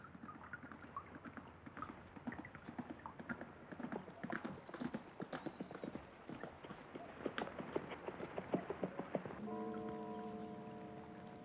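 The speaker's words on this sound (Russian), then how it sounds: "Красивый очень звук лошади, которая приезжает мимо." Horse hooves clip-clop past in a steady, uneven rhythm, faint at first and growing somewhat clearer, followed by a sustained tonal hum at the end.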